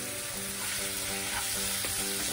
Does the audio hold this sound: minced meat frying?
yes